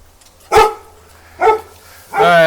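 Dogs bark nearby: three loud, separate barks spaced about a second apart, the last one drawn out, against a quiet low hum.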